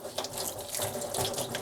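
Tap water runs steadily into a sink as soil is rinsed off onions and sweet potatoes by hand, a continuous close splashing rush with no voices.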